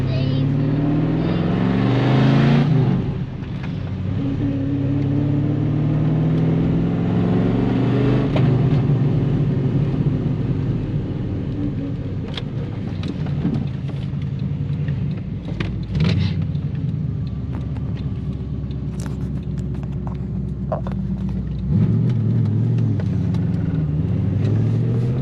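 A Holden VN SS cruises along with a steady, loud engine drone and some revving swells, and people talk inside the car over the continuous rumble.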